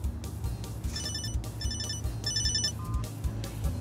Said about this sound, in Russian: У тебя телефон.